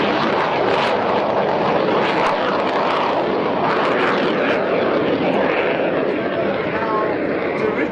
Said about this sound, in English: the jet getting airborne, the second jet